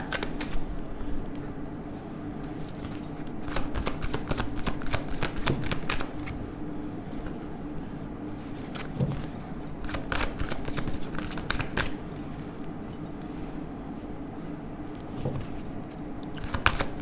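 Tarot cards being shuffled and drawn, a steady close riffling and flicking of cards with soft clicks and taps throughout, fairly quiet and without speech.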